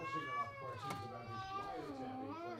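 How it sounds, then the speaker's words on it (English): A cat meows in a long, drawn-out call with a rising-then-falling pitch, close and fairly clear, over a low background hum. "That's a cute meow."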